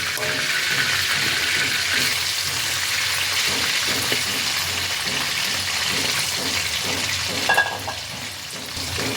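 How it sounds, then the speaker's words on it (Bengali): Diced potatoes fry in hot oil with a loud, dense, steady sizzle close by, and a brief stirring clatter near the end. "এবার এই তেলের মধ্যেই দিয়ে দিচ্ছি কেটে রাখা আলু"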